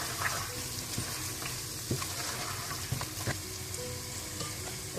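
Mutton frying in oil as green chilies are stirred in, with a steady, close sizzle and crackle broken by soft scraping strokes of a spoon against the pan at a loose, regular pace.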